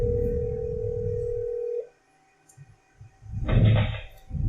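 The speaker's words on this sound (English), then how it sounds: "So I will again place a phone call." A steady dial tone on a desk phone on a SonicWall high-availability firewall network holds for nearly two seconds and then cuts off. Brief faint clicks follow, then a louder burst of ringback.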